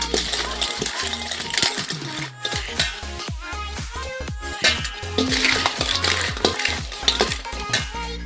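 Spicy Thai salad of cockles, mango, corn, tomato and lime being stirred and tossed in a bowl, with a run of sharp clinks and scrapes of utensil against the dish, loud and close.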